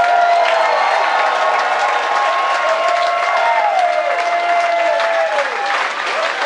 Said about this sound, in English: give these three gentlemen right here a fucking huge round of applause